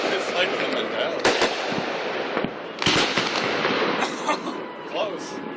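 Fireworks set off close to a tree outdoors crackle and pop continuously, with several sharp louder bangs and bursts standing out as people talk and shout over them.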